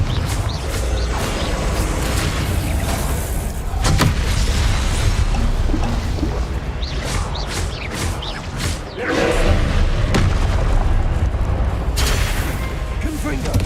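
Repeated Confringo fire-spell explosions in the wizarding game Hogwarts Legacy, loud booming bursts and whooshes recurring every few seconds amid ongoing combat noise, with a voice talking over them.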